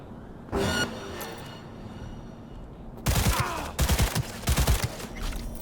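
Skippy pistol gunfire in the video game Cyberpunk 2077: a brief opening burst, a pause, then several rapid clusters of loud, sharp shots in quick succession, close and punchy over ambient game noise.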